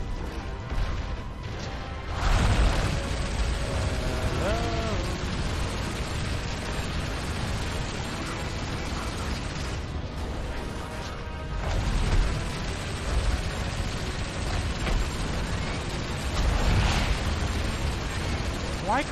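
An anti-air cannon fires in Gears of War: Ultimate Edition, giving heavy repeated booms and explosions with mechanical clanks, surging at several points, layered over dense game noise.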